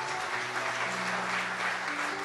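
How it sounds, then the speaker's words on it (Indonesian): Steady applause from a church congregation during a sermon, continuous and moderately loud, with a sustained musical tone underneath. "Berikan tepuk tangan buat Tuhan Yesus."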